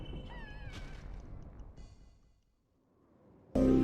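A kitten meows in the Castlevania: Legacy of Darkness game, with a few short rising cries near the start over a low, busy game background, followed by a sudden loud burst at the end.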